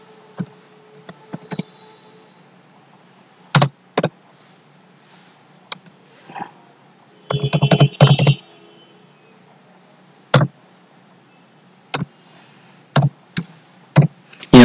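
Computer keyboard keys clicked while entering a GST number in Tally ERP 9 accounting software, sparse sharp taps spaced irregularly with one quick burst of several keystrokes near the middle, close and alone without talk.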